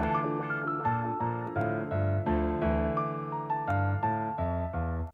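Brass melody doubled by a wah-effected guitar sound in an FL Studio piano beat, playing a steady stepwise line over a thick low bass, loud and continuous with no voices.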